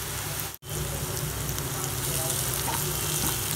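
Golden-brown onions fry loudly in a pan as salt, chili and turmeric are stirred in for a spiced toria dish. The sizzle is dense and continuous, broken only by one brief dropout.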